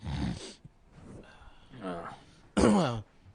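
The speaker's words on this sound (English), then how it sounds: "I made a nose snorting, clearing my throat voice" A short throat-clearing snort up close, surrounded by brief bursts of talk.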